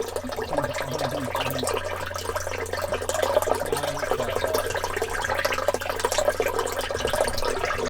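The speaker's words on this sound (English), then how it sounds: "We're filling up with water." Water pours and splashes steadily inside a sailboat's cabin as it fills up during a crossing of the Gulf Stream, a continuous gushing wash with a low hum of machinery underneath.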